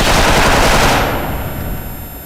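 Loud automatic gunfire from the Special Force online shooter game hammers rapidly for about a second, then fades into a quieter ringing tail.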